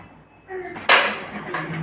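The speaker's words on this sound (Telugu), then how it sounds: "మూత పెట్టేసుకుందాం" A lid set on a pot of Andhra fish curry in a home kitchen, making a single close metallic clank with a brief ring after it.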